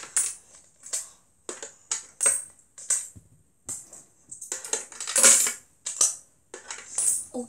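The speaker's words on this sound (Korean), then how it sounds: "동전이 끝없어" Coins clatter into a small toy safe in a run of sharp metallic clinks and drops, arriving in irregular bursts across the whole stretch, close and fairly loud, with no talking.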